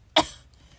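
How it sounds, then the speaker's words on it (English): A single short cough, sharp and close, trailing off quickly into quiet. "please pardon my cough"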